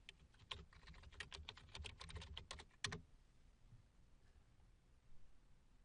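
Keys clatter on a computer keyboard in a quick burst of close, crisp taps for about three seconds, then fall quiet apart from a few faint stray clicks.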